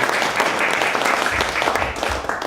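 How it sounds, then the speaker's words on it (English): Sustained audience applause fills the room, a dense, steady wash of many hands clapping at close range for the whole stretch with no pauses. "One big"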